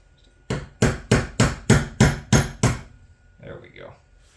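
Seven loud, evenly spaced hammer blows strike a pin punch set on an anvil while working on a Honda high-security ignition, followed by a faint rustle of handling.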